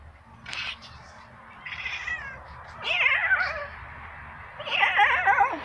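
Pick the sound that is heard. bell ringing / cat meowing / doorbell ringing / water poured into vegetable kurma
cat meowing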